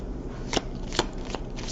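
Tarot cards are shuffled and drawn by hand, giving soft papery riffles and two or three crisp card snaps against a quiet room background.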